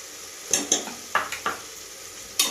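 Ginger garlic paste is stirred into tomato masala in a pan, with a handful of sharp scraping strokes from a spoon against the metal over a faint sizzle. The strokes come in two quick groups, and a last one follows after a pause.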